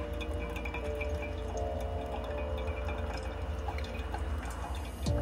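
Freshly brewed coffee trickles steadily through a pour-over filter inside a camper van, a continuous soft dripping and pouring that fills the clip at moderate level with no talk.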